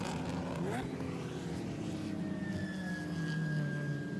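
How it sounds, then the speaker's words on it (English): Race cars at the 2021 WRL 14 Hours of Daytona endurance race, a steady, dense engine drone with thin whining tones sliding across it, continuous and fairly distant, with no talking. "it's wonderful to actually be able to hear cars"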